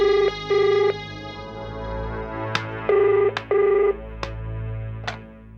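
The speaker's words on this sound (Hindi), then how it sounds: "जाके सलोनी को फोन तो कर।" A telephone rings in double bursts, twice, with a few sharp clicks in between and no talking.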